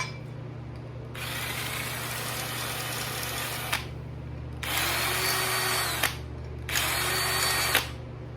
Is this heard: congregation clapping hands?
no